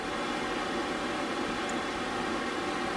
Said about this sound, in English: sorry for the noisy furnace